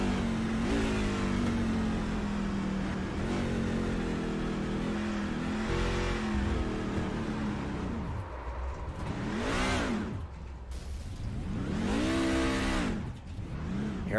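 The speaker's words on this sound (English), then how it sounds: "Heard him throttle it back up to try and stay out of that wall." Onboard a race car at the Daytona road course, the engine drones steadily, then drops off and throttles back up in several rising revving surges, loud and close, with no talk.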